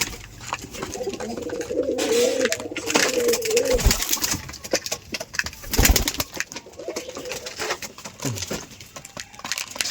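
Rajshahi Giribaj pigeons coo in a steady, close chorus of low, rolling calls lasting throughout, with scattered rustles and a few sharp thumps in between.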